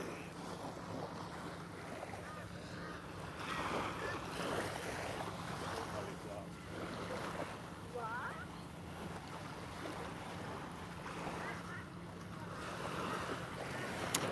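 Wind and waves at Sutton's Beach in Redcliffe, Australia, a steady soft wash of surf and wind buffeting the microphone, with voices talking over it.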